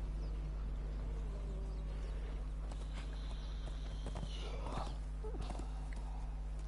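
A horse's hooves clip-clop in a rhythmic walking pattern in the PS4 game Conan Exiles, moderately close over a constant low game hum and ambient drone.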